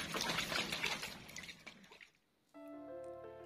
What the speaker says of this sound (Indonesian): Air hujan yang baru turun ya, masih segar, saya siram seperti ini